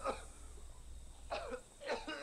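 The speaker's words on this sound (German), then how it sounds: "Wer hustet denn da eigentlich" Several short coughs sound in the background during Far Cry 6 gameplay, three bursts spread over about two seconds and set against a steady low hum.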